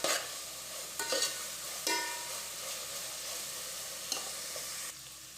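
Chicken fried rice ingredients are stirred in a hot pan. A utensil scrapes and knocks at intervals over a quiet, continuous sizzle, up close and fairly soft, with no voices.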